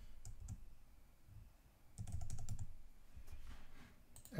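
Password being typed on a computer keyboard, quiet bursts of key clicks with pauses between, faint and close in a quiet room.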